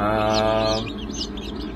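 Baby chicks peeping inside a Sportsman incubator at a hatchery, with hatching lavender Orpington, Ayam Cemani, French black copper, gold lace Cochin bantam and silver laced chicks; a dense chorus of high, overlapping cheeps over a steady incubator fan hum.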